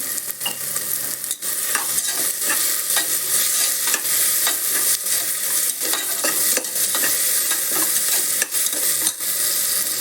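Ingredients for a one-pot biryani sauté loudly in a pot with salt, giving a dense, continuous sizzle and crackle punctuated by sharp clanks and scrapes of stirring, close up with no talking.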